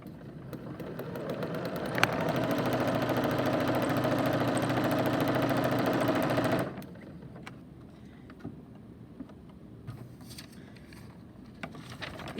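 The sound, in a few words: sewing machine running fast with presser foot pressed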